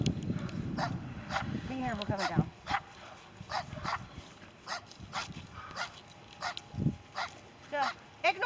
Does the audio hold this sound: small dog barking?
yes